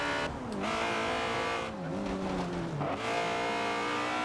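Turbocharged car in the Forza Horizon 2 racing game, a Fast and Furious pack model, with a steady loud engine drone whose pitch dips and climbs through shifts over a few seconds, with no talking.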